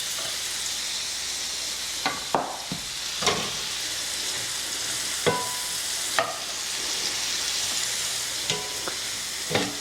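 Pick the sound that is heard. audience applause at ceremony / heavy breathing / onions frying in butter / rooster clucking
onions frying in butter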